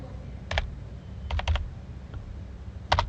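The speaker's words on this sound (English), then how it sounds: "press plus in your keyboard to zoom in" Computer keys are pressed in small clusters: a double tap, then a quick run of three or four presses, then another double tap, crisp and close with no talking.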